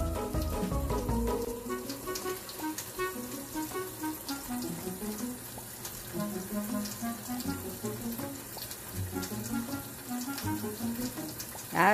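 A kitchen faucet runs steadily, splashing water without a break, while a pet bird plays in the stream underneath it.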